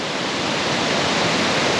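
Mountain stream at the source of the Säntisthur, one of the two headwater streams of the river Thur, rushing loudly and continuously like a small waterfall, close by and with no voices.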